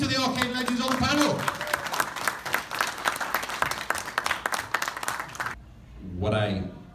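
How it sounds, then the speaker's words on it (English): Loud applause from a convention audience greets the Arcade Legends panel at Free Play Florida 2017. It runs steadily for about five seconds and cuts off abruptly, and a voice follows in the quiet after it. "giving them a nice welcoming round of applause? Here's to the Arcade Legends on the panel!"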